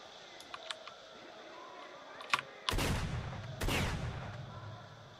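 Shotgun blasts in an arena fight in the S.T.A.L.K.E.R. shooter game: a couple of faint clicks, then two loud, booming shots about a second apart, each with a long, rolling decay.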